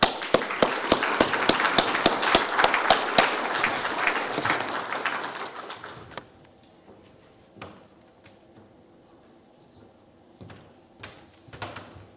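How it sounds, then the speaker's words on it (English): Audience applause at a university engineering alumni hall of fame induction ceremony, with dense, fairly loud clapping for about six seconds before it dies away into a quiet room with a few scattered claps and small noises. "Let's give Dr. Huang a round of applause."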